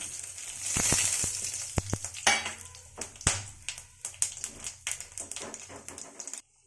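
Whole cumin and whole garam masala spluttering in hot oil, bright crackling sizzle punctuated by sharp pops and clinks of a spoon against the pan, close and without speech.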